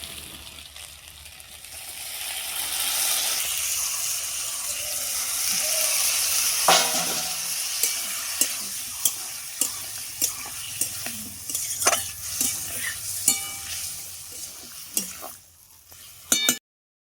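A bori (lentil dumpling) curry cooks in a pan, its steady frying hiss running throughout while repeated sharp scrapes and taps of a spoon stirring against the pan punctuate the second half, close and fairly loud.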